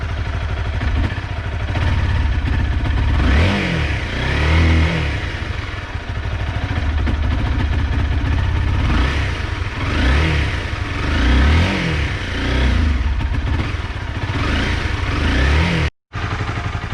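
A motorcycle engine with many rusted parts idles and is revved hard, its loud, close roar swelling and falling in repeated surges for the whole stretch and cutting out sharply for a moment near the end.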